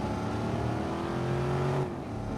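A car in Watch Dogs driving steadily, its engine a continuous close drone with the pitch shifting slightly before it eases off near the end.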